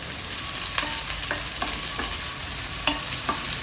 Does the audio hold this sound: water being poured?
no